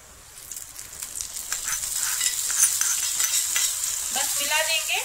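Dry fruits browned in ghee sizzle and crackle as they are stirred into hot sabudana kheer, a soft steady frying hiss that builds and stays close, with no talking.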